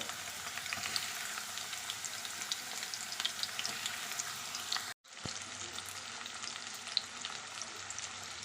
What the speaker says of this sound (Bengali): ওই গরম তেলের মধ্যে দিয়ে দিচ্ছি পেঁয়াজ পেঁয়াজটাকে লাল করে ভালো করে ভেজে নেবো